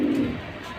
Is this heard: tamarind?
no